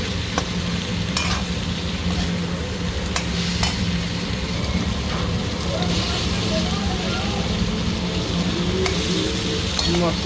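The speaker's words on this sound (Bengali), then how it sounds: "মশলার সাথে কাঁকরোল ভালো মতো ভাজা হয়ে গেছে।" Spiny gourd (kakrol) fries with spices and curry leaves in a pan, giving a steady, loud sizzle throughout with spatula stirring and scraping clicks over the top.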